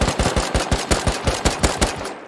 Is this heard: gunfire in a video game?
yes